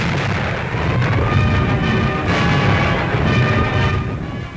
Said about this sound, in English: a typical skirmish by a forward patrol coming under enemy fire